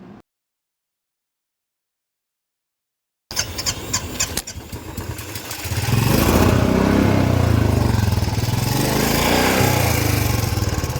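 After a stretch of silence, mechanical clatter gives way to an engine catching and settling into a loud, steady idle, close by.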